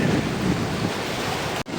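Ocean surf at Cola beach in Goa washes in as a broad, steady roar mixed with wind buffeting the microphone, with a brief dropout just before the end.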